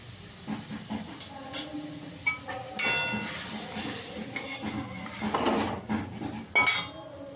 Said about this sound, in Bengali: হলুদ দিয়ে দেবো, কাশ্মীরি লঙ্কার গুঁড়ো দিয়ে দেবো 1 চামচ,